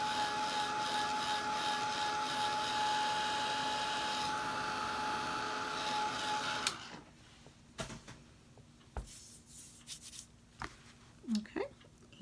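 A heat tool blows steadily and loudly to dry acrylic paint on a sunflower and chick painting, a broad continuous whoosh that cuts off partway, leaving quiet handling noises and small taps.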